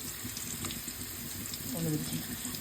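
Ginger garlic paste with turmeric fries in a pan for egg pulao, giving a steady close sizzle with a brief stirring scrape near the end.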